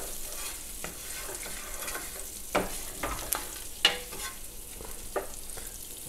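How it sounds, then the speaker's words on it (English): Crispy pancetta fries with julienned sage leaves in a pan, making a steady close sizzle. Several sharp scraping taps of stirring punctuate it, and no one speaks. "Our pancetta has crisped up, so now I'm going to go in with about 8 sage leaves, just julienned. Give that a little stir."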